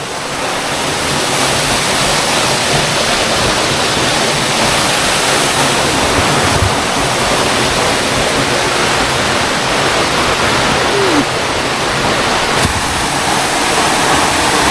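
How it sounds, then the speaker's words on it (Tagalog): A waterfall near a beach in Abra de Ilog roars loudly and continuously, a broad, steady rush of falling water close by with no break. "napakaganda talaga ng falls na to"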